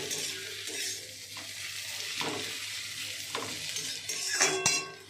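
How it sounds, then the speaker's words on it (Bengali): Bitter gourd (uchhe bhaja) fries in a pan at home with a soft continuous sizzle, a few stirring scrapes, and a brighter clink of a utensil against the pan near the end. "যেখানে উচ্ছে ভাজা রান্না করছি।"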